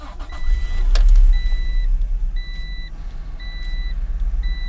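An Acura NSX starting up: a loud low rumble swells over the first second, then settles into a steady idle while a repeating two-tone electronic chime beeps at regular intervals from the dashboard.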